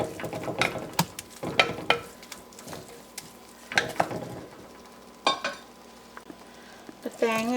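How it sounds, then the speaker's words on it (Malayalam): Beetroot pachadi mixture with coconut stirred in a pan for a Kerala sadya, a spoon scraping and clacking in irregular bursts, close and fairly loud, with brief sizzling between strokes. "സോ ഇത് നന്നായി ഇളക്കി കൊടുക്കുക"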